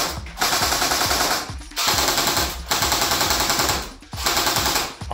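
An Acetech Bifrost airsoft gun shoots tracer BBs in rapid full-auto bursts, about four close, loud strings of fast mechanical clattering separated by brief gaps.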